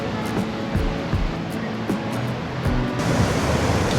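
Ocean waves wash onto the beach at Hikkaduwa, Sri Lanka, in a steady broadband roar of surf that swells slightly toward the end, with no voices over it.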